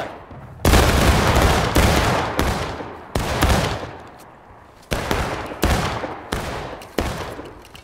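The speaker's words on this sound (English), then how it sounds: "One more volley in charge" Musket volleys in the War of Rights video game, about ten loud cracking bursts of massed rifle fire in quick ragged succession, each trailing off into a rolling echo.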